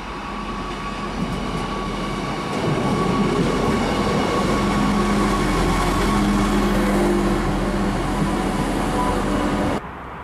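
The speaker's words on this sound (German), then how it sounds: "Vier Kilometer nach Goldhausen erreicht der Zug mit dem Bahnhof Montabaur den Standort des Stellwerks" A train on the Lower Westerwald Railway pulls into Montabaur station, a steady rolling rumble with rail noise and faint wheel squeal that swells louder midway and holds until it cuts off near the end.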